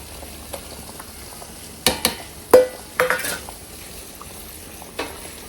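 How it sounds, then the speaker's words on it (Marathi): Ground masala paste going into cooked mutton in a pot, with a few sharp clanks and scrapes of a spoon against metal over a low simmering sizzle. "त्याच्यामध्ये हा मी वाटण केलेला आहे तो टाकते"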